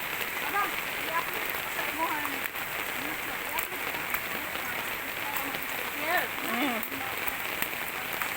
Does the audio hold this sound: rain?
yes